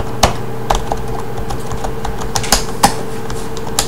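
Keys on an Element Hanzo KB 1000G gaming keyboard pressed deliberately hard, giving a steady run of close, soft clacks with a few louder strikes, no talking.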